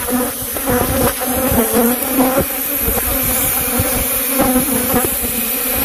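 A dense swarm of bees buzzes loudly and continuously inside and around an RV, a steady close-up drone with fluctuating intensity and no voices.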